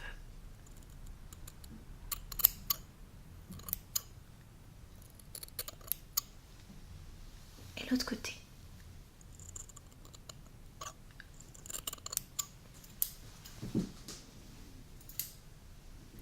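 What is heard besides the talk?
scissors cutting hair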